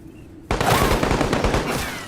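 A burst of rapid machine gun fire in a Halo game erupts abruptly after a half-second of quiet, loud and close, rattling continuously for well over a second before tailing off.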